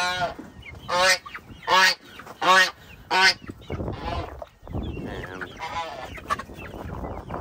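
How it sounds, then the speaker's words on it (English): Loud, repeated honking squawks from fowl ring out in short bursts, then a busier mix of clucking and calls from several chickens nearby, with feed spilled on the ground. "And so I have a lot of chickens right there."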